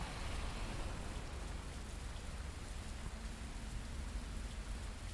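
Steady rain patters continuously on a surface, a dense hiss of drops at even intensity throughout with no voices.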